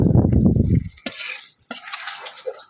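A spoon stirs taro with boiled lentils in a cooking pot in a village kitchen, giving two separate bursts of wet scraping and metal clinks after a soft, low rumbling start.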